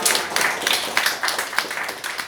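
Audience applause at a live comedy show, a dense wash of many hands clapping at steady volume for a couple of seconds with no voices over it.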